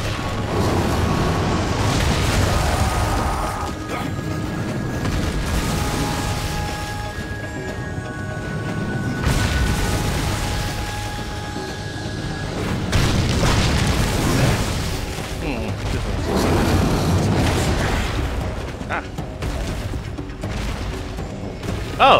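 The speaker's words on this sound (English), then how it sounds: "Oh, there's bombs around here." Heavy booms and crashes from exploding bombs in Darksiders 2, several deep blasts spread over a sustained rumbling game soundscape, loud and close.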